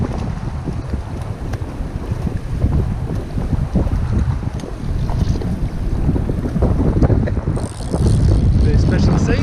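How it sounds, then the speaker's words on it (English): Strong gusting wind buffets the microphone continuously while fishing in the Kaweka ranges, a loud steady roar with constant low rumble, and someone speaks over it. "This is windy as hell."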